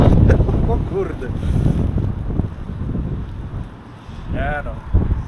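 Strong gusting wind buffets a DJI Avata 2 drone in flight under manual control, a loud rushing roar with bursts of someone talking excitedly over it.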